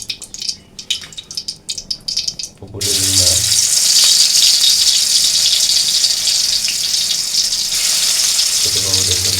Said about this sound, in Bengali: এখন মাছ ভাজি হবে, পুকুরের রুই মাছ।